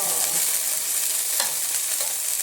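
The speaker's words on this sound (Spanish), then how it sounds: "Sartén bien caliente, un poquito de aceite de girasol, apenitas, y vamos a sellar nuestros niños envueltos" Stuffed cabbage rolls searing in a very hot pan with a small splash of sunflower oil, giving a steady, close, loud sizzle throughout with faint crackles and no talking.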